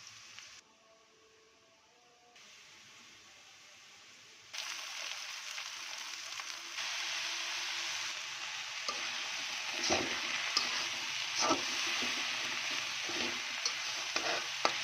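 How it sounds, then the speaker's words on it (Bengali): Leafy greens (shak) dropped into hot oil, a quiet start that jumps into a loud, steady sizzling hiss with scraping stirs and sharp crackles scattered throughout. "এখন শাক তেলে দিব।"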